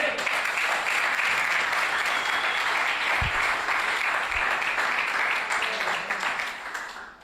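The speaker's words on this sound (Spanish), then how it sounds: "Dale un aplauso al Señor" Church congregation applauding during a Spanish-language sermon, a dense steady wash of many hands clapping that holds loud for about six seconds, then fades at the end.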